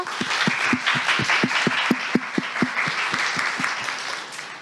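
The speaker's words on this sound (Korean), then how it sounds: "좋은 말씀 해주신 정지우 작가님께 박수 한번 부탁드릴게요" An audience at a university forum applauds author Jeong Ji-woo, a steady, dense round of clapping with distinct close claps in a regular beat, lasting the whole clip with almost no talk.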